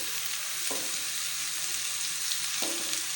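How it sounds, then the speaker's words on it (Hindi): Pieces of tinda (apple gourd) fry in oil with a steady, close, hissing sizzle, broken by a couple of soft stirring taps. "पहले हम टिंडों को ऑयल में फ्राई करेंगे"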